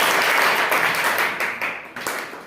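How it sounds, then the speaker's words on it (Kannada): Schoolchildren in an eighth-grade classroom quiz event clap together in a dense burst of applause that gradually thins and fades into scattered claps. "ಎಲ್ಲ ಮಕ್ಕಳು ಜೋರ ಚಪ್ಪಾಳೆ"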